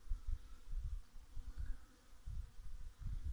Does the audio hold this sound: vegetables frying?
no